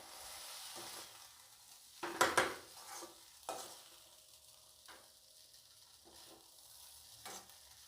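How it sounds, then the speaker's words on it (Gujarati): Batata poha mixed with sev being stirred in a pan, giving soft scraping and sizzling touches with a louder burst of stirring near the middle, then a few lighter strokes, no talking. "હવે આપણે ફરીથી એકવાર હલાવી લઈશું."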